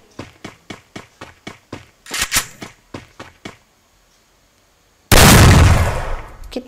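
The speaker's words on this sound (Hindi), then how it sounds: "अब ये दो नल्ले शॉटगन से मारेंगे गाइस, बॉडी शॉट ही मारेंगे इससे भी।" Double-barrel shotgun fire in a mobile shooter video game: a quick run of sharp clicks and short bursts, then a brief quiet gap before one very loud, booming blast that decays with a long rumbling tail.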